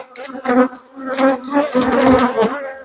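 Honey bees from a heavily populated hive buzzing during a hive inspection, close droning swells that rise and fall as insects pass near, with no voices over them.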